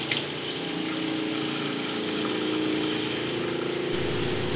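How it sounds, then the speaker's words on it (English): An RV water pump draws antifreeze through the plumbing while winterizing, giving a steady, loud mechanical drone with a watery rush that holds constant and cuts sharply near the end. "turn the water pump back on"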